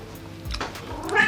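A cat meows in a kitchen, a few short close cries in quick succession over quiet room sound, with no speech.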